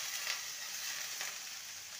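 Amaranth leaves fry with vegetables in a hot pan, making a steady, fairly quiet, hissing sizzle that continues without a break.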